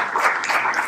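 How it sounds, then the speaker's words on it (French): Audience applause at a Bitcoin conference held at Jussieu, a dense, steady wash of many hands clapping together for just under a second, fairly loud and even, with no talk over it. "je pense qu'on peut les applaudir pour toutes ces informations"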